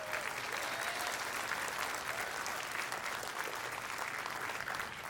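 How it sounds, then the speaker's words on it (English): A graduation commencement crowd applauds in a steady, fairly distant wash of many hands clapping that continues throughout without any talk. "Give them a round of applause there."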